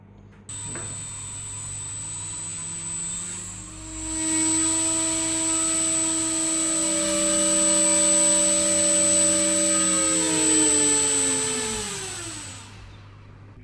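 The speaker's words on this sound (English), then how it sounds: "now let's do its test" A 6-inch tri-blade propeller on an MT2204 2300 kV FPV drone motor whines up during a bench thrust test, a loud rising tonal roar that holds steady, then winds down and fades as the throttle drops.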